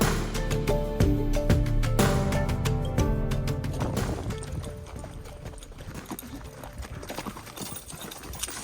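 Horse hooves clop in a steady rhythm on hard ground, close and continuous, with a tinny jingle and outdoor noise around them, in Cuba.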